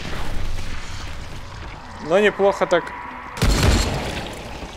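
A thrown explosive blows up in the video game Dying Light, a sudden broadband boom following a short stretch of male speech over steady background game noise.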